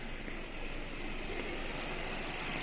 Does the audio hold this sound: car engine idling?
yes